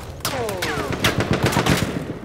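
Gunfire erupts in a Battlefield 1 Conquest online match, loud, close bursts of rapid automatic shots and sharp cracks that keep coming in a dense volley, with no voices over them.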